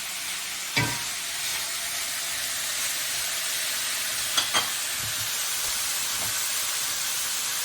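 Garlic fries in a pan with a steady, close sizzle and hiss, broken by a few soft clinks and stirring knocks, with no voices.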